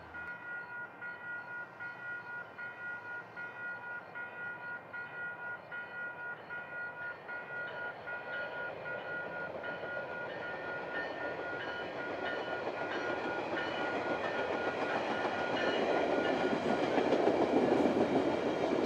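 A Metrolink commuter train departs Anaheim Canyon station, rumbling along the rails and growing steadily louder as it picks up speed, with a faint sustained tonal whine riding over the rolling noise.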